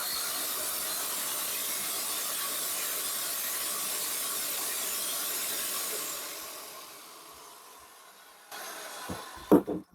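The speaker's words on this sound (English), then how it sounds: "We drilled through 25 centimetres of solid brick." A Titan 6.3kg SDS drill bores through 25 centimetres of solid brick with a loud, steady grinding hiss that fades out near the end, followed by a few close knocks and clatters.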